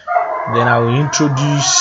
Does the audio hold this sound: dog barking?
yes